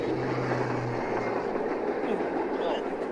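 A modern passenger train runs on its rails, heard from inside a cramped carriage as a steady, dense rumble and roar that fills the whole clip at an even level.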